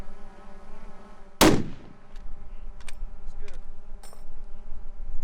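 One sharp, loud crack from a long-range precision rifle rings out and then decays, over a steady background hum with faint insect buzzing.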